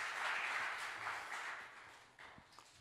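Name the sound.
applause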